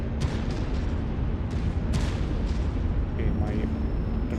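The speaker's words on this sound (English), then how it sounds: "Okay, my dropship is shooting" A dropship fires its weapons during a raid mission in the video game MechWarrior 5, a run of heavy booming blasts and sharp bursts over a dense rumbling battle din, loud and close.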